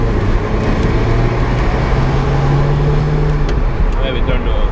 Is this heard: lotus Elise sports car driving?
yes